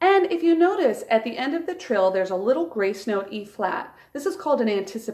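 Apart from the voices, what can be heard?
No everyday noises stand out.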